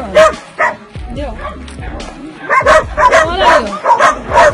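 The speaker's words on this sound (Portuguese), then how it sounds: "Olha aí, ó. Cachorrinho abandonado. Tadinho." An abandoned puppy left in a box gives close, high-pitched yips and whimpers in a rapid, irregular series of cries over several seconds, with speech-like sounds mixed in.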